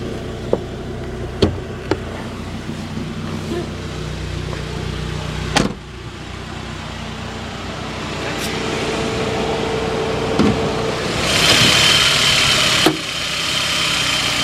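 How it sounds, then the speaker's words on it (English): A 1999 Saab 9-3 SE convertible with a 2.0-litre turbocharged inline-four idles steadily nearby, a smooth low hum with a few clicks and knocks around it and a brief rise in hiss near the end, no talking. "So while we got the engine running"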